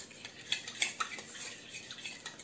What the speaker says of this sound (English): So we're just going to mix this up.